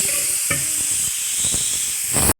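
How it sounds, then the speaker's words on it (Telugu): Chicken simmering in a pan gives a steady close hiss and sizzle, with a few louder spits and stirring clatters before it cuts off abruptly near the end. "బాగా చికెన్ మగ్గిపోయింది"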